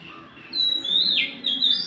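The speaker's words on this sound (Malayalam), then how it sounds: "എന്ത് രസമാണ് നമ്മുടെ ഈ കിളികളുടെ ആ സൗണ്ട്." Small birds chirp and tweet in high, bright calls, with several short bursts close to the microphone over a soft, steady background hum.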